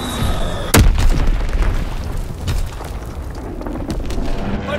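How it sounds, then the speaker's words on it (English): An Azon bomb detonates in a video game battle: a sharp, loud boom lands near the start, then a dense, rumbling roar of continuing blasts and crackling debris holds steady for several seconds. "Dropping Azon bomb."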